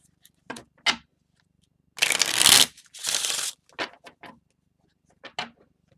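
Arcana Tarot playing cards are handled and shuffled up close: a few short card flicks, then two longer riffling bursts, then more scattered flicks and taps, with no talking.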